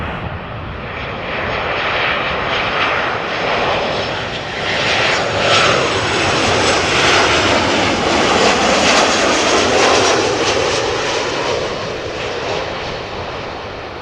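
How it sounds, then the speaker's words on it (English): A 20-year-old Transavia Boeing 737-700 arriving at Amsterdam from Bari makes a loud, sustained jet roar that swells as it passes close by, then gradually recedes. "Transavia 737-700 arriving from Bari."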